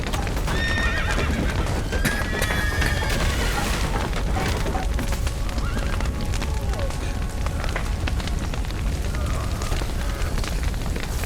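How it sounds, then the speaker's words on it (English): Horses whinny several times early on in The Witcher 3 amid hoofbeats, rumbling and crashing noise, the neighs loud and high above a dense, busy background. "The horses!"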